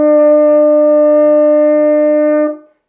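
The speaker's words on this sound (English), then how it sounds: "So that's that sound again. Note number three sounds like this." Solo French horn holding a high A, note three of a beginner exercise: a single bright, steady sustained tone with strong harmonics, played close up and fading out cleanly after about two and a half seconds.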